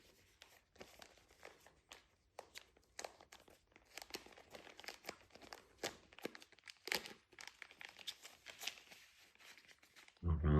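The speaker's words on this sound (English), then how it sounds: "And we have another plastic bag." Close, busy crinkling and rustling of a thin plastic bag from a DJI Mic Mini box being unpacked continues throughout with uneven bursts, ending in a louder handling thump.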